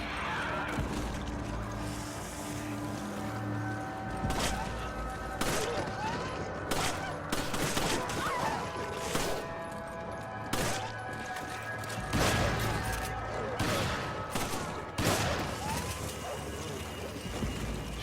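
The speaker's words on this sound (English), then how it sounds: "Shotgun is probably going to be the most effective strategy here." Shotgun blasts ring out in Resident Evil 5, a series of sharp booming shots at irregular intervals over continuous game background noise and music, loud and close.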